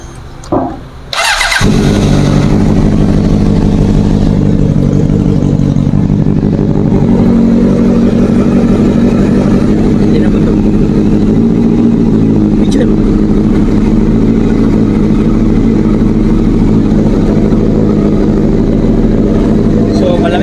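A car engine with a struggling, hard-turning starter cranks briefly, then fires and settles into a loud, steady idle while warming up, with a slight rise in revs partway through, recorded up close.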